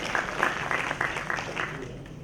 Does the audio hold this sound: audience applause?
yes